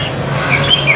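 Birds chirp at a songbird competition in Hoi An, Vietnam, with short high tweets popping up over steady low background hum from the gathering.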